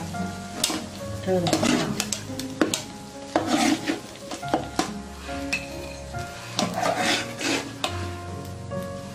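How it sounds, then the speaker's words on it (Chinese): Green peppers mixed with egg sizzle in a pan in a rural home kitchen, with repeated scraping and stirring strokes over a steady frying hiss; a voice speaks briefly. "再煎一会都可以出锅，再它翻翻都可以出锅"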